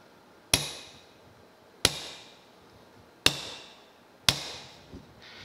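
Four sharp metallic hammer strikes on a punch marking metal parts of a gear reduction unit from a New Haven metal planer, evenly spaced about a second and a half apart, each ringing briefly before decaying, then a soft clink.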